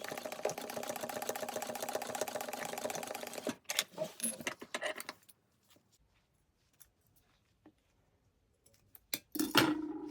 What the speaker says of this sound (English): now I'm going to take it and we're going to sew a 1/4 inch.